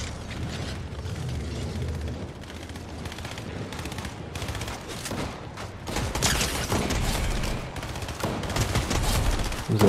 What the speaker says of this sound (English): Shots back behind us.